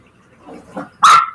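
A single dog bark bursts out near the end, loud and close, after a stretch of faint background murmur.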